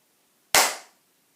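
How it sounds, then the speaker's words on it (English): A single sharp hand clap rings out alone, crisp and bright with a short decay, following a moment of silence. "That was a clap."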